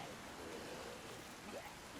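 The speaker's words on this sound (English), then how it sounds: "Now, it is pouring rain" Pouring rain in the zombie survival game Project Zomboid, a steady and faint hiss of broadband noise that runs without a break, with a faint voice speaking over it.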